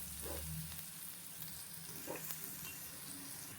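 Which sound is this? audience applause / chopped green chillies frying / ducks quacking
chopped green chillies frying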